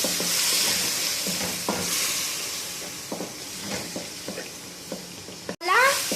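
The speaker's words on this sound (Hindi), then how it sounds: "अब हम इसके अंदर 4 खाने के चम्मच दही ऐड करेंगे और इसे भी भून लेंगे" Curd fries in masala for kaddu kofta, a continuous hiss and sizzle with a spoon stirring and scraping the pan in intermittent strokes, close and moderately loud, with a brief burst of steam near the end.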